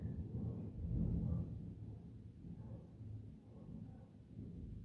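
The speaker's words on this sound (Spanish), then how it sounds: "y hasta un trueno cayó en estos momentos que mencioné." Distant thunder rolling in a low, continuous rumble that swells near the start and then lingers faintly, with no voices.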